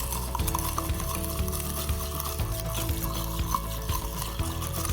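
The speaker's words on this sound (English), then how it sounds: "And give it another stir." A spoon stirs a mojito made with Carta Blanca rum, a steady close churning and clinking over a constant low hum, running evenly throughout without talk.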